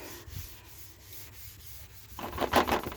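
Steel wool buffs a plastic car headlight, a soft scratchy rubbing that turns into a louder, brighter, rough scrubbing in the last second, close up with no talk.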